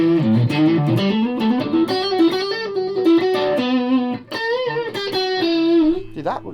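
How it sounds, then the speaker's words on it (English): Electric guitar through light distortion, a Stratocaster with a scalloped neck, played as a melodic line of sustained, slightly gritty notes, close and clear, with no voices over it. "Light distortion."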